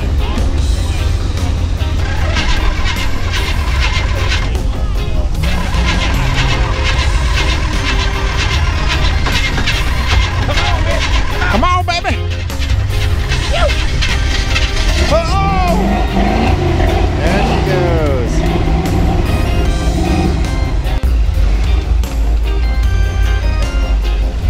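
Carbureted Toyota FJ engine revving hard during an off-road extraction at Moon Rocks, a loud sustained engine drone with rising and falling rev sweeps, mixed with voices and ambient outdoor noise.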